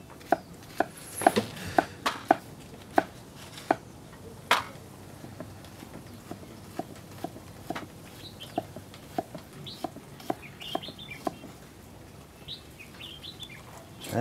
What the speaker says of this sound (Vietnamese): Cháu băm cho tôi cái hành này nữa